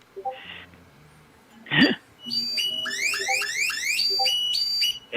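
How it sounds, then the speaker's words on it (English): An alarm tone plays, with a run of rising electronic chirps and beeps cycling through the second half, preceded by a few brief noisy bursts. "This is just an alarm."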